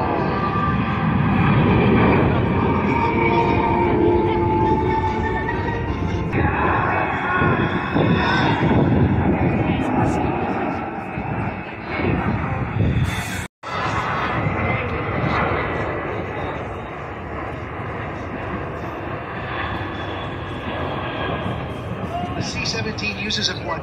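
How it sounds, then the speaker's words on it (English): A C-17 military transport jet flies past at an air show, a loud broad engine roar that swells and lingers with a brief dropout midway, while an announcer talks over it. "Ladies and gentlemen, the C-17"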